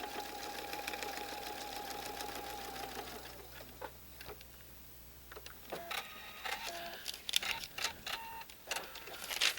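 A sewing machine stitches a Twisted Block quilt block, its steady mechanical whir running for several seconds before stopping, followed by scattered clicks and rustling of fabric being handled close by.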